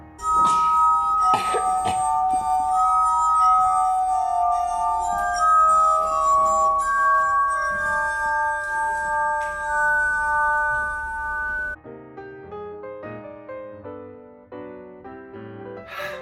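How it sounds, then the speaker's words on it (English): Glass harmonica played with sustained, shimmering glass tones that ring and overlap, loud and close, shifting to shorter separate notes near the end. "that's basically what this guy is doing with the glass harmonica"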